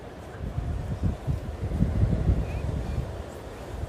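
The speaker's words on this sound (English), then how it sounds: "It's quite windy here" Strong gusty wind at Copacabana Beach, Australia, buffets the microphone outdoors, a steady low roar rising and falling in bursts.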